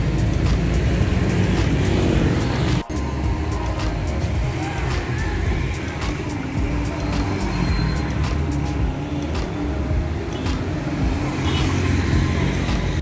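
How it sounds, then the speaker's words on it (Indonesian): Toyota Vios limousine with a custom bodykit driving away on a road, a steady engine and tyre rumble with traffic noise, a brief click near the start, and faint voices in the background. "Ini mobil sudah dibawa sama Mas Anton ya ke Nganjuk"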